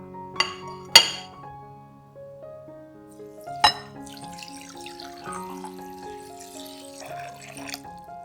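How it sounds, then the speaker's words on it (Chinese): Water runs into a large bowl of dried glass noodles for soaking, a steady splashing wash after a couple of sharp clinks of glass or dishware, with soft music playing underneath. "将冬粉放到大碗里，用水浸泡至冬粉变软。"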